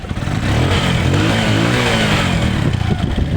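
A Bajaj CT-100 motorcycle engine idles steadily nearby, a deep, continuous rumble with a faint mechanical clatter and no voices.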